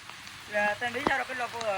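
Rain patters in a steady hiss while voices talk over it.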